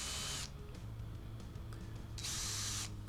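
A power drill fitted with a depth-stop bit bores into the finish and wood of a broken Les Paul guitar neck, two loud whirring bursts at the start and end with quieter workshop noise between.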